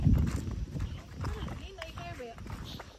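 Horse hooves clip-clop along a highway at a cowboy camp in Bukidnon, steady and near, with people talking over the hoofbeats throughout.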